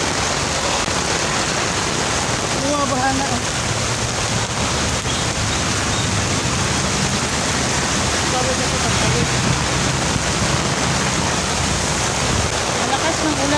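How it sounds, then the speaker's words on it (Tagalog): Heavy rain pours onto a flooding road, a dense, steady roar of water that stays loud and unbroken throughout with no pauses. "Malakas ng ulan"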